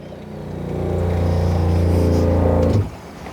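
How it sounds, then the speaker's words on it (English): Close, loud motor hum of an RV water pump pumping antifreeze through a Truma system. It rises over the first second, holds a steady harmonic drone, then cuts off sharply near the end. "We're going to start by turning on our pump."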